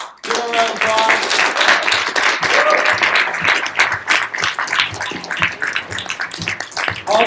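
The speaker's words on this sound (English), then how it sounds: "Give them a round of applause." An audience breaks into loud applause for a leadership team called up at a live event, with a dense wash of clapping and some cheering that holds steady for several seconds before easing slightly.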